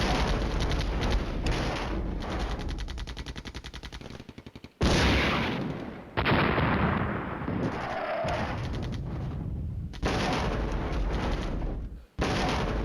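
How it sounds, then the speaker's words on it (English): Heavy rattling gunfire and artillery blasts in a Flashpoint Campaigns: Red Storm Soviet battle, loud, dense and continuous, with short pauses and abrupt restarts. "I need to drop some artillery here."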